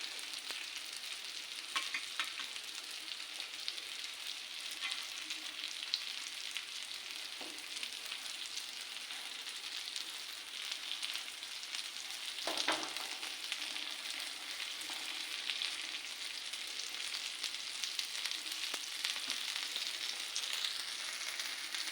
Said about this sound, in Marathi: हे बघा चांगले तळून घेतलेत आपण तेलामध्ये